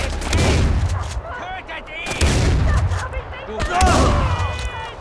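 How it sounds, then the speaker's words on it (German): Loud shotgun blasts in the shooter game Far Cry 4, a few heavy booming shots with echoing tails, separated by brief pauses, with someone talking over the gunfire. "Kopfschuss, das mit Shotgun."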